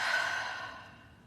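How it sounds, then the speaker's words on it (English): A single deep breath exhaled slowly through the mouth during a breathwork meditation, a close, breathy rush that starts strong and gradually fades over about a second. "let's take some nice deep breaths, breathing in through the nose,"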